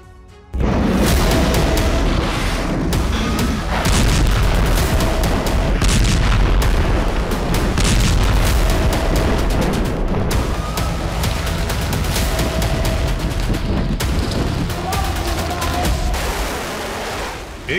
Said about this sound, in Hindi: एक बार फिर लाल सागर का इलाका मिसाइलों के हमलों से दहका।